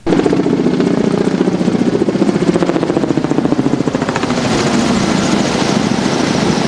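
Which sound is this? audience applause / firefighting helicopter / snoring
firefighting helicopter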